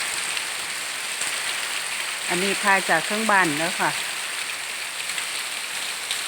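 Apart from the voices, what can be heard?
morning rain falling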